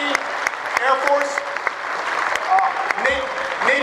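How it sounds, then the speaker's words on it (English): A live audience gives a sustained round of applause for military veterans, with dense close clapping throughout, a few whistles and cheers, and voices mixed in under the clapping. "give them a round of applause"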